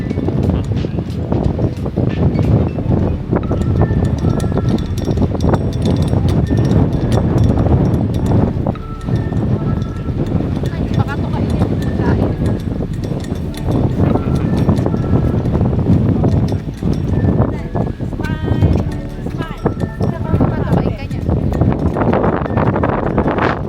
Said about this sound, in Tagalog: nahugong, napasok ang hangin sa tenga